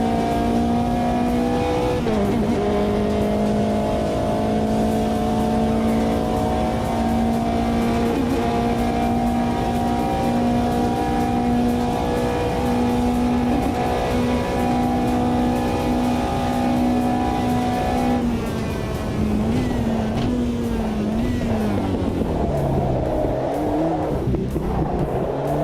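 Race car engines in a sim racing game drone steadily with high, sustained revving tones through most of the stretch, then pitch shifts and drops near the end, with no one talking.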